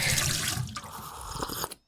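Water pours in a short, steady stream into a drinking glass, close and clear for under two seconds, then stops abruptly; no one speaks.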